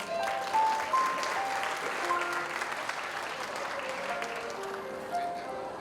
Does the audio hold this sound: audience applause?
yes